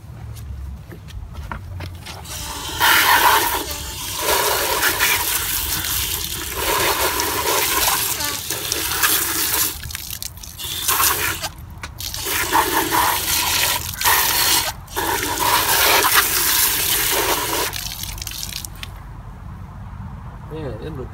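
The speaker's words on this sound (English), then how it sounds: "hose to wash it out." A garden hose sprays water steadily over an old Honda XR250R motorcycle under restoration, a loud continuous hissing gush with brief breaks as the spray shifts, and voices talk now and then over it.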